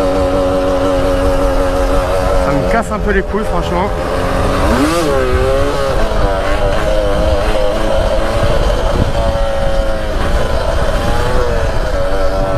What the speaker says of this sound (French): elle fait vraiment que caler la moto